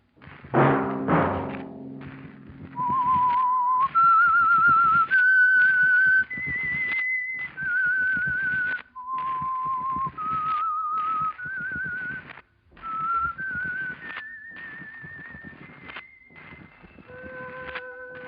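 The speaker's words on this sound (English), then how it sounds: "Let that whistle be your signal for the signal oil program, The Whistler." A lone whistler carries the eerie theme signal of the radio mystery program, with sustained, clear notes stepping through a slow melody, preceded by a few low thuds and separated by brief pauses.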